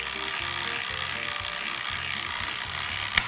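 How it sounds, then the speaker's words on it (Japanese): The wind-up mechanism of a small toy truck runs steadily, giving a continuous buzzing, ratcheting whir with a repeating rhythmic pulse. The sound is close, and a sharp click comes near the end. "ゼンマイのレバーを押して"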